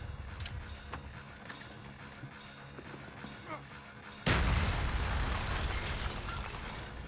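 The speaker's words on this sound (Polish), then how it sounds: "Wow, wybuchy." A loud burst of explosions in Call of Duty: Black Ops erupts partway through, a dense roar that stays heavy after a quieter stretch of busy gameplay noise.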